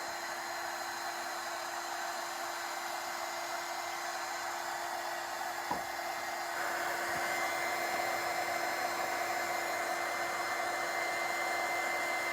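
A heat tool blows steadily to dry paint on an antique wooden box, a continuous close whooshing hum that shifts slightly in pitch partway through, with no talking.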